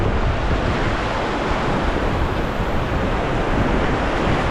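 Roaring white water of a rapid on the Truckee River, a loud continuous broadband rush of churning water and wind with no pauses, no voices heard over it.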